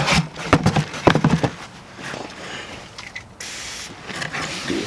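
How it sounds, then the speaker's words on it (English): Brake cleaner hisses from an aerosol can onto a new front brake rotor for a 2008-2012 Chevrolet Silverado 1500, with a couple of sharp bursts early on and a longer steady spray in the middle, close and fairly loud. "I want to clean it off with some brake clean."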